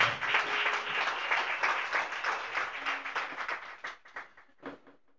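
A Pentecostal church congregation in Bungoma County claps together in a dense burst of applause that thins into a few scattered, fading claps near the end.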